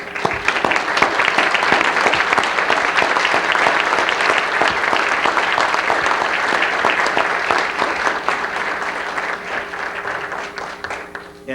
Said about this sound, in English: because we need to applaud them